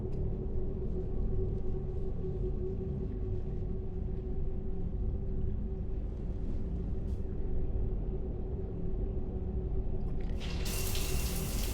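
A shower runs steadily in Mass Effect 3, a continuous hiss of falling water over a low rumble, holding even throughout, with a brief brighter splash near the end.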